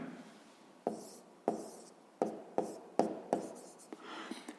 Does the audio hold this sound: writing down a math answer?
yes